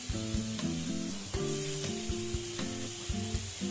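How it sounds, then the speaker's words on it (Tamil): Onions and tomatoes sauté in a pan for sambar, a soft steady sizzle under repeated rhythmic scraping and knocking of a ladle stirring the pan, with no speech. "வெங்காயம் தக்காளி நல்லா வதங்கணும்."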